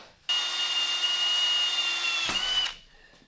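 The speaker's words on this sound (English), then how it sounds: "then we'll drill these for the tapping size in and through" A power drill whines at a steady high pitch for about two seconds while drilling tapping-size holes in a Honda chopper part, briefly bites, then spins down; close and loud, no voices.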